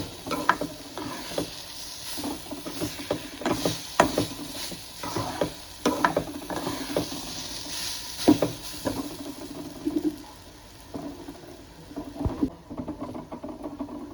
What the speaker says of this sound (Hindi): ये दाल जो है ना ज़्यादा नहीं भूनूंगी इसको भी